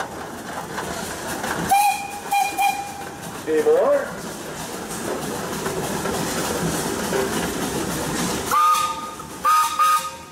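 Steam whistle of an 1889 Rushville Company steam engine, over 125 years old, at a pioneer engineers parade: several short whistle toots spaced apart, under crowd noise and a voice speaking.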